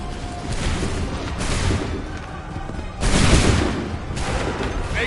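Musket volleys from the Assassin's Creed 3 video game roar as dense, booming gunfire, with two louder bursts of overlapping shots over a continuous battlefield rumble.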